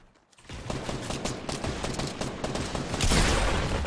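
Gunfire during a Fortnite Battle Royale match with a sniper rifle in play: a quick run of sharp, close shots cracks in succession, building to a heavier, louder blast near the end, with no talking.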